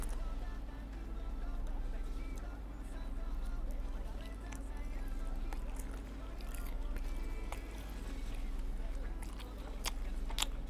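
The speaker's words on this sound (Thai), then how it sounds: "จะเริ่มชิมที่ไส้กรอกนะนะผม จึ๊บ ไส้กรอกครับไส้กรอก" Someone bites and chews a sausage up close, with soft, wet mouth sounds recurring in a slow, rhythmic pattern and a voice talking at times.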